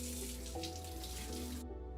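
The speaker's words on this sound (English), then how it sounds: "Washing your hands with soap and water or using hand sanitizer regularly throughout the day will reduce the risk" A tap runs steadily into a sink for a couple of seconds as hands are washed with soap and water, a close, even splashing rush that cuts off abruptly near the end.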